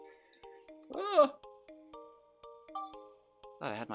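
A phone notification tone plays unexpectedly during Dark Cloud 2 gameplay, a short cluster of steady electronic tones with a louder chime burst near the start and another at the end.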